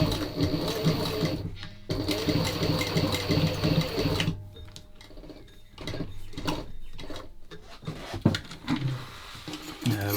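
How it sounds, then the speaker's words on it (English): A sewing machine stitches through double-thickness leather for a wood and leather tool tote, running in steady bursts of rapid mechanical clatter with short pauses between runs, close and clear. "I'm stitching up the double thicknesses at the moment, so a little bit more demanding. My machine is managing it"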